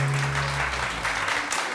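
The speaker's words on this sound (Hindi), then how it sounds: "तालियां तो बजा दीजिए।" A studio audience on a TV morning show applauds steadily and fairly loudly for nearly two seconds. A low hum is faintly audible beneath the start.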